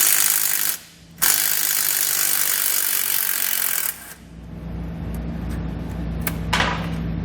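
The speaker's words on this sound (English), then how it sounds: "So we'll grab a 10mm socket and we'll pull that bolt out." A 10mm socket ratchet working a bolt loose on a rear axle bracket during air helper spring installation, heard as close, steady mechanical clicking with a few gaps and small clanks.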